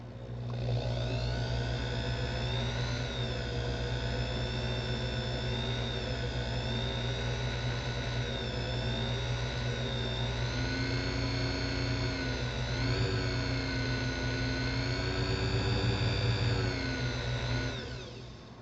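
A small lathe or turning tool shaves metal from the fourth wheel pivot of a Hamilton watch, a steady machine whine with tonal harmonics that holds near and even for about eighteen seconds, no talking.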